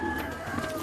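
Pigeons cooing on a rooftop in Afghanistan, a close, steady murmur of soft coos over a faint background hum.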